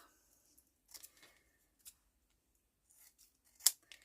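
Scissors snip around paper pieces for a mixed media journal, a few faint, close clicks and slicing cuts spread unevenly, with one sharper snip near the end in a quiet room.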